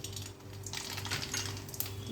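Mustard seeds hit hot oil in a kadhai for a spinach rice tempering, giving a close, steady patter of crackling pops and tiny clinks that picks up after a quiet start, with no voices.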